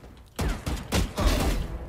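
Bursts of gunfire in a Valorant deathmatch ring out close and loud, several sharp volleys in quick succession after a brief quiet start, each shot cluster fading fast.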